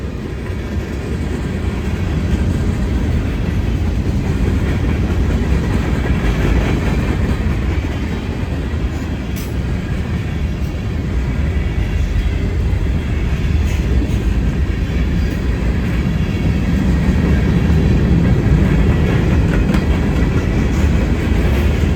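A Norfolk Southern freight train with a KCS locomotive rolls past at Gaffney, South Carolina, making a loud, steady rumble and clatter of railcars that holds for the whole stretch with no talking.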